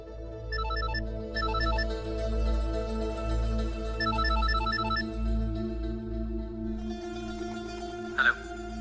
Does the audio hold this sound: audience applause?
no